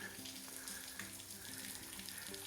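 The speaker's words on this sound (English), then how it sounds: "it's not much more than a trickle. It's usually a really nice little waterfall" A gentle, steady trickle of running water splashing continuously from a small waterfall running low after a dry spell, fairly close and soft, with no voices.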